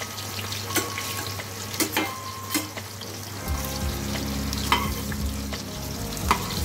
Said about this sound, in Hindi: अब इसी तरह ये सिक रहे हमारे कबाब